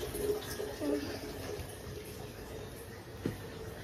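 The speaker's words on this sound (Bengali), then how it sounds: "আর এখন ওরা জল ভরছে, সব খালি বোতলগুলো ভরেছে" Water runs steadily as empty bottles are filled during a family get-together, a continuous wash of pouring and splashing with a few soft clinks; faint voices murmur in the background.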